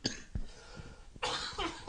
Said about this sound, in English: I don't like that cough